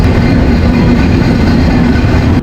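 The Jahanabad Express train rolls into Kashiani Junction station with a steady, loud, dense rumble of wheels and carriages, heard close up from on board.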